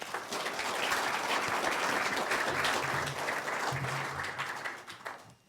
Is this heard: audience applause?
yes